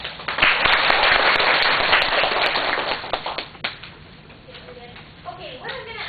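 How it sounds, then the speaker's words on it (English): A lecture-hall audience claps for volunteers, a dense burst of applause for about three seconds that quickly thins to scattered claps, followed by a voice speaking. "If we could give them a quick round of applause"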